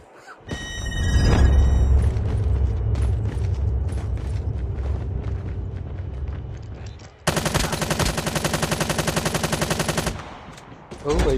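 Gunfire in Call of Duty Mobile, a video game, opens with a heavy boom and rumble, then rapid automatic fire snaps out in a tight, fast rhythm for about three seconds. The shots are loud and close.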